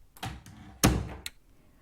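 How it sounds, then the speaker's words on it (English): A house door swings back and clicks shut: a few light knocks and taps, then a loud heavy thunk near the middle and a final sharp click, close and alone. "when the door swung back and clicked back closed"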